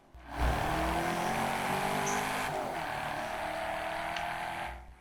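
A drift-built car in Forza Horizon 5 accelerates and cruises, its engine note rising then holding steady with a brief tire squeal, fairly quiet and without talk, fading out at the end.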